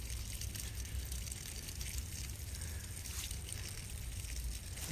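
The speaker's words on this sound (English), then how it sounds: "we'll also see the water running back down the hill out of the valve that opened downhill" Water draining from an opened sprinkler valve runs downhill during winterization, a steady, faint, broadband rush and gurgle with no pauses.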